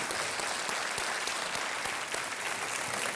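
A studio audience on the KBC quiz show claps for a contestant, a sustained, dense burst of applause that stays at an even level throughout, with a few sharper individual claps standing out.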